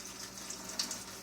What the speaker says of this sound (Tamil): இப்போ ஃபஸ்ட்டு இந்த வாட்டரை ஃபில்டர் பண்ணிக்கலாம்.